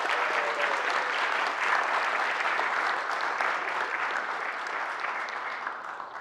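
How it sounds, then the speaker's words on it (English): A big round of audience applause at a food and drink gathering, thick continuous clapping from many people that stays loud and slowly tapers toward the end. "Let's give all these people a huge round of applause."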